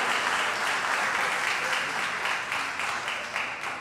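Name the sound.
audience applause for young robotics competition winners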